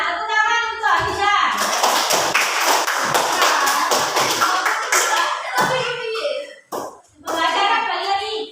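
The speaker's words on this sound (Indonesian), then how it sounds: "Tepuk tangan untuk Hafiza." A classroom group claps hands for a student during a school lesson, a burst of brisk, dense applause lasting several seconds, framed by an adult speaking before and after.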